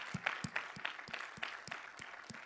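A small audience at the Rooted CON 2017 security conference gives a brief, sparse round of applause, with individual claps distinct and fairly faint.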